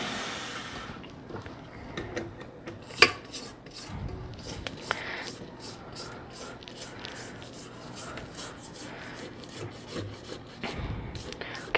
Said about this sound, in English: I'm going to continue mixing this until it's all nice and smooth.